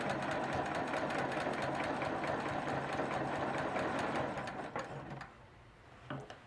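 A sewing machine runs continuously along the bottom of a quilt strip guided by a ruler, a close, even mechanical whir that stops near the end, leaving light handling clicks.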